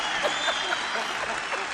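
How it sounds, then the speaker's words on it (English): Live audience at a bluegrass banjo music show breaks into applause and cheering after a song, a soft, fairly distant patter of many hands with scattered whoops, steady throughout without a break. "The crowd goes wild."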